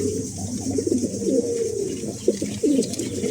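Several newly paired pigeons coo continuously in a warm, rolling chorus, fairly loud and close, with overlapping calls and no talk.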